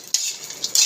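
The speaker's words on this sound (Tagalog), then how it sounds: "Halo-haloin ko po muna siya sa sasangag." Dried anchovies stirred in a pan, two quick bright scraping strokes of a utensil across the pan with a soft rustle between them, close and short, with no talking.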